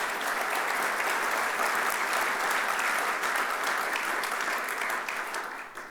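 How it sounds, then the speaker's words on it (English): Sustained audience applause for Senator Shelley Capito at a Washington transportation briefing, a thick even wash of many clapping hands that holds steady and then begins to thin out at the end. "Give her another round of applause, please."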